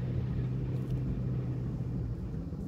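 A car drives out of Yakutsk suburbs toward Pokrovsk, giving a steady low engine and road rumble that holds evenly throughout, close and continuous with no talk.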